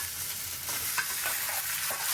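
Onions fry in a home kitchen pan (kadhai) while being stirred, a steady close sizzle with scraping strokes of the spoon, no talking.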